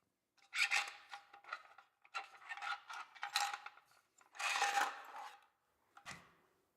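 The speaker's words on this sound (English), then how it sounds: "watch how simple it is to remove the barrel" Metallic clicks, scrapes and rasps as the barrel is removed from a UMP pistol, a series of close handling bursts with short pauses and a final thud.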